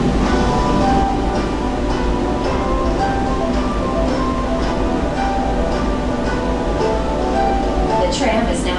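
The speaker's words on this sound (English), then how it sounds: "The tram is now approaching Bellagio." The Bellagio tram in Las Vegas runs from Park MGM with a steady rumble and rattle inside the car, broken by faint clinks, while voices talk over the ride.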